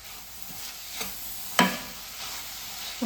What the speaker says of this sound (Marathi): स्ट्रॉबेरी घालून घ्यायची आहे स्ट्रॉबेरीचे असे छोटे छोटे तुकडे केलेले आहेत